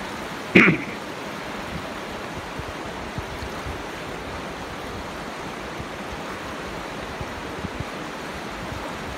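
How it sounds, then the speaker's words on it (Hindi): Flowing water of the Poonch river beside a bridge in Kotli, Azad Kashmir, a steady broadband rush that stays even and continuous throughout, with one brief sharp knock near the start. "इस वक्त आप लोग दरियाए पुंछ के बहते हुए पानी की आवाज़ को सुन रहे थे"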